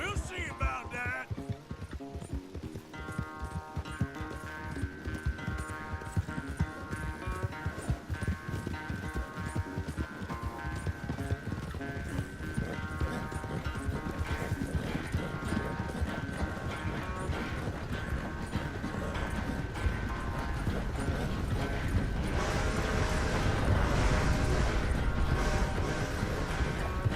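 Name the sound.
horse galloping, from video game Red Dead Redemption 2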